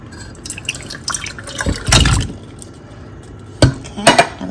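Yams poured from a container into a dish, giving a few wet, splashy thuds and drips close up, with a louder slump near the middle and a couple of sharp clinks of the dish toward the end.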